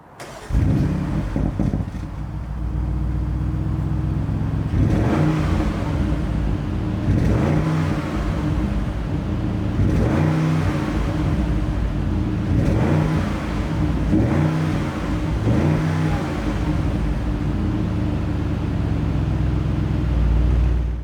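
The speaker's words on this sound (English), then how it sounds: "let's hear what the 600 brake horsepower V8 sounds like with first a start up and then some revs" An Audi RS Q8 with a 600 bhp V8 fires up with a sharp start-up burst, settles into a rumbling idle, then gives about six evenly spaced blips of revving, capped near 4,000 rpm, close and loud.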